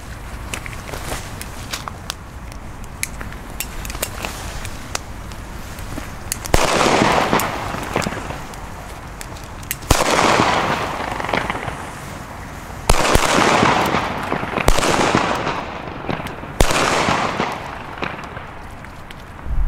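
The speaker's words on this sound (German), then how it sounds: "Wir fangen jetzt an mit den B-Böllern." Funke B firecrackers (German Böller) detonate outdoors in a row of sharp loud bangs, about five blasts spaced a few seconds apart, each with a broad noisy burst and a trailing echo over steady background noise.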